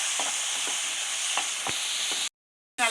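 Sliced native tomatoes sautéing in a pan for halwa, a steady close sizzle with light irregular scrapes of a stirring spoon, then a sudden cut to silence and a brief return.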